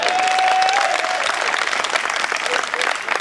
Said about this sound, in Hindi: मैंने कहा कि आपसे ताली बजाओ।